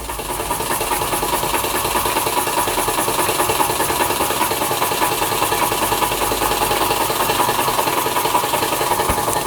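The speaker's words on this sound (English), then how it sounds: "it now does appear to be running just on the burner" A scratch-built overtype model steam engine runs on its gas burner, giving a fast, even mechanical chuffing and rattling that stays steady and close throughout, with no talking.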